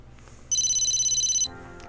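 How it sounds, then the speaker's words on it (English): A cell phone ringtone rings in a visual novel video game, a bright electronic trill pulsing steadily for about a second before cutting off, with soft music continuing underneath. "Hey, Tsubaki, your cell phone is ringing."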